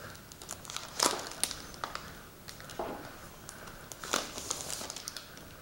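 Crinkly plastic ribbon seal torn open on a PS3 game box, close and fairly quiet, with scattered crackles and two sharper ripping bursts.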